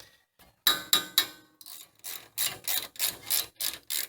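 A hand ratchet clicks in short, rapid bursts while loosening a brake caliper bracket bolt on a Toyota Tacoma, a few quick metallic strokes followed by a longer run of ratcheting, close up.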